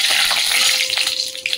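Panch phoron and dried red chillies hit hot oil in a kadai, giving a steady, bright hiss of frying spices that runs close and loud throughout, with small crackles near the end.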